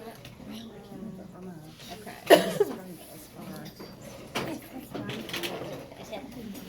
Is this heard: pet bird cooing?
yes